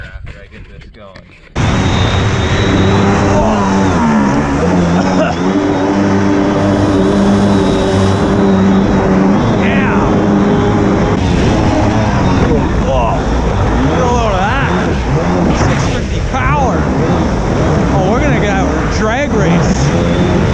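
A Kawasaki JS550 jet ski fitted with a 650 engine runs loud and steady on the water, a constant roaring drone with shifting revs after a quieter start, and speech can be made out under it.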